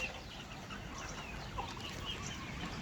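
Chickens in a mixed pen with rabbits and ducks give scattered quiet clucks against a continuous low rumble of background noise, no talking present.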